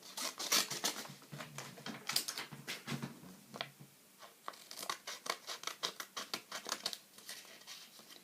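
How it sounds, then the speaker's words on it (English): Scissors cutting out a paper hat drawn in marker, a close, quiet series of crisp snipping and rustling strokes coming in irregular runs, with no talking. "Now I'm going to cut the hat."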